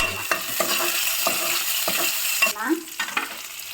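Halved shallots and curry leaves sizzle steadily in hot oil in a pan, with repeated stirring scrapes and clicks of a spoon against the metal, close and continuous.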